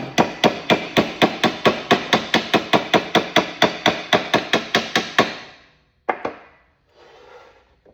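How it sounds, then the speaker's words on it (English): Rapid, even metal-on-metal taps of a fret hammer seating frets on a vintage Telecaster neck, about twenty in quick succession, then a pause, one final tap and a brief scraping rub. "with a fret hammer"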